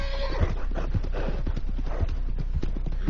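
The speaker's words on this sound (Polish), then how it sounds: "Czym się tak przestraszył koń?" A frightened horse in Red Dead Redemption II clip-clops in steady, close hoof beats while a sharp whinny rings out near the start, all over a dense bed of in-game ambience.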